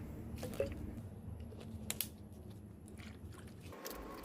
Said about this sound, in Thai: คลุกเคล้าส่วนผสมทั้งหมด ให้ เข้ากันนะคะ